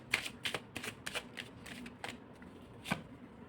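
Tarot cards being shuffled and drawn from the deck, a run of crisp, close riffling flicks and slaps in an irregular rhythm, with a single sharper card snap near the end.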